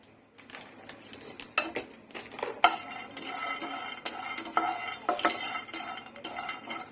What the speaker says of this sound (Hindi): अब हम इसमें पिस्ताचियोज डालेंगे